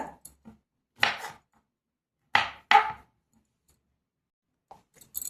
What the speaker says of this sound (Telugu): ఇప్పుడు తలా తోకలైతే కట్ చేసుకుందాం.